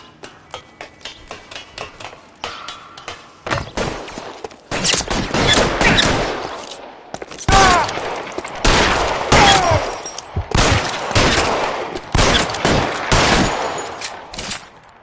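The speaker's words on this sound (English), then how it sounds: "Shots fired." Gunfire rattles through a shootout in the video game L.A. Noire, with sparse scattered shots at first giving way to loud, dense bursts of rapid fire that come in repeated volleys, with no talking.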